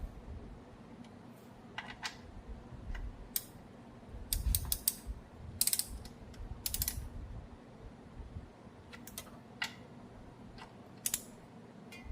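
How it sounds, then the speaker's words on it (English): Torque wrench ratcheting while tightening the oil drain bolt on a Gen 2 Dodge Viper, with short bursts of fast clicking and metallic creaks scattered among quieter pauses, close but faint, with no talking. "We're going to tighten the bolt back up. It's 25 foot-pounds."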